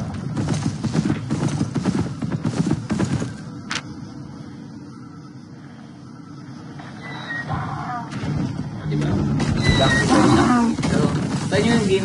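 Hooves clip-clop steadily from a horse or donkey mount in the Albion Online video game, a continuous rhythmic patter that grows louder near the end, with someone talking over it.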